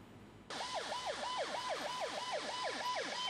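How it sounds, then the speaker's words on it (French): An ambulance siren stuck in a long traffic jam on a road in Abidjan, a loud wailing two-tone cycle that starts abruptly and repeats rapidly, with low traffic noise beneath and no talking. "Difficile pour cette ambulance de se frayer un chemin dans ce bouchon interminable."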